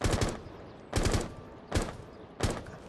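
Four short bursts of automatic weapon fire from a Rainbow Six Siege firearm, each a quick rattle of a few rounds spaced under a second apart, fairly close and alone with no voices.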